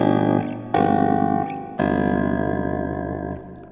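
Axe FX 3 ring modulator effect at 50 hertz on a guitar, producing a buzzy, rapidly fluttering metallic tone across a few struck notes, loud and close with no talking.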